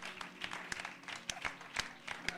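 A congregation at a Pentecost church service claps in quick, uneven bursts of sharp hand smacks, heard alongside voices talking and singing in the room.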